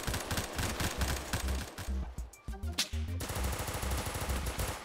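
Rapid bursts of automatic gunfire in Roblox from an AK-47 or G18, dense and loud, with a brief pause in the middle before the shooting resumes.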